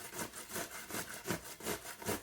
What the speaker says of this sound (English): You just want to grate them. Use a box grater if you have one